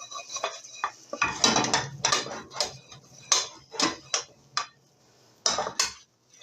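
Choux pastry panade being stirred and dried out in a pot for chouquettes, with repeated scraping and clattering strokes of a utensil against the pot, close and fairly loud, coming in irregular bursts with short pauses.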